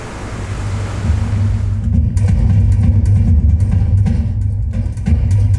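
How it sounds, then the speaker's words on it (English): Ocean waves crash against walls in a loud, continuous roar of surf mixed with heavy wind rumble, with no voices. "you can see the waves just crashing against the walls"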